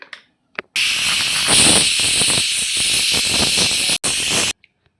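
A kitchen mixer grinds masala with chili powder and coriander powder, a loud, steady whirring roar that runs for about four seconds with one short break and then stops abruptly.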